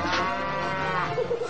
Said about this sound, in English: This lovesick cow expresses her appreciation as only a bovine can.